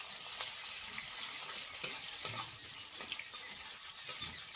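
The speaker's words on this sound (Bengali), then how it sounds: "পেঁয়াজটা একটু হালকা ভাজা হবে।" Chopped spring onions frying lightly in a pan, a steady soft sizzle with occasional stirring clicks and scrapes, close and fairly quiet with no talk.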